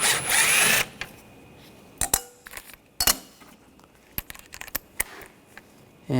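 A power tool spins a 7mm socket to back out screws while a 2013-2022 Buick Encore headlight is removed. One loud whirring burst is followed by scattered metallic clicks and clinks as parts are handled nearby.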